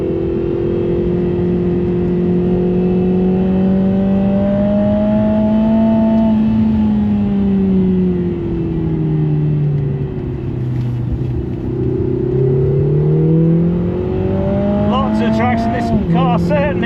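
A Lotus Emira powered by the AMG A45S four-cylinder engine accelerates hard on a track, its close, loud engine note rising and falling through gear changes, with a brief tire chirp near the end and a driver talking over it.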